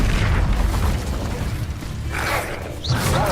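Incendio fire spell cast in the Hogwarts Legacy video game, heard as a rumbling, booming whoosh of flame with a second bright burst near the end.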